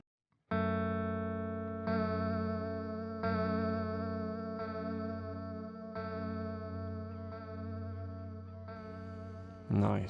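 Guitar chords through a Chase Bliss Mood Mk2 pedal with delay repeats that grow darker, each strum ringing into a lush, chorused wash of echoes, close and sustained, with a brief thump near the end.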